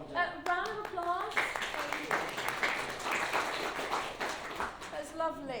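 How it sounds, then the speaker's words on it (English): An improv comedy audience at a comic con claps and applauds continuously, a moderately loud crowd sound under and between a host's speech. "Round of applause."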